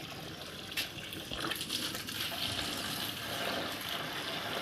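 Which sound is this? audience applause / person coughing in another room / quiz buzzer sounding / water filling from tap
water filling from tap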